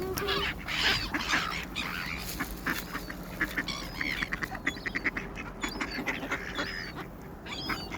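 Ducks quack repeatedly while being fed outdoors alongside seagulls and swans, a busy cluster of overlapping calls and splashy bird chatter, moderately close, over steady background noise.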